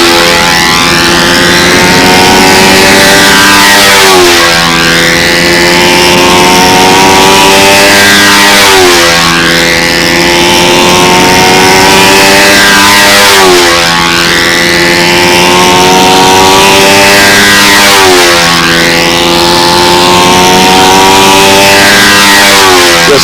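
A stock Sato 72 model airplane engine revs loud and close, its high whine climbing and dropping in about five repeated sweeps with brief dips between runs.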